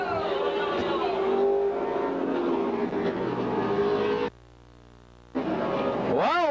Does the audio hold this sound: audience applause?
no